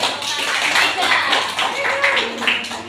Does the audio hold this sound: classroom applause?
yes